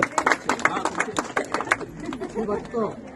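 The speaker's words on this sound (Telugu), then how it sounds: "చప్పట్లు పెట్టు" People clap at an engagement ceremony, a quick scattered round of claps from a small nearby group, mixed with voices and chatter that carry on after the clapping thins out.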